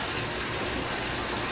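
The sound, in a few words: water running into a bathtub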